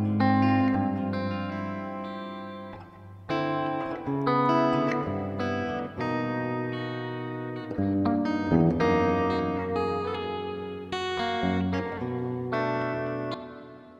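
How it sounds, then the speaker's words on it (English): Electric guitar played through reverb on a ZOIA modular effects pedal, chords and notes ringing out with a lingering wash of decay; steady, fairly loud phrases with brief gaps, no talking. "So now we should have some reverb action going"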